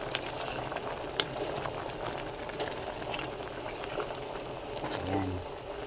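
Bicol Express made with pork neck (batok) and bagoong simmering: a steady bubbling, hissing boil in the pot, with faint speech heard briefly under it.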